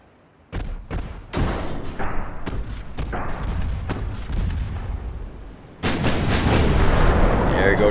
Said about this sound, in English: There go the big guns.